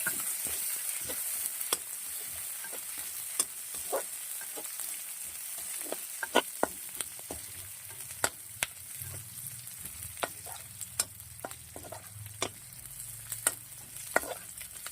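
Onions sizzling in oil with dried chillies make a continuous soft frying hiss, broken by frequent sharp clicks and scrapes of a spoon stirring the pan, close and fairly quiet.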